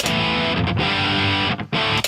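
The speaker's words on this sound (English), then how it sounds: "I can take off the tube screamer, just use the amp distortion" Electric guitar played through amp-simulated distortion in Logic Pro X with the tube screamer pedal removed, a loud, thick sustained crunch of chords that cuts out briefly twice, with no talking.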